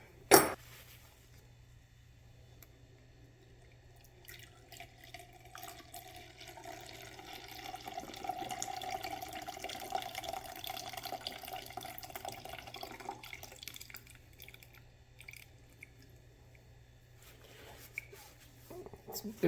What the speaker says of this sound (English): I'm going to go ahead and pour it out and see what it looks like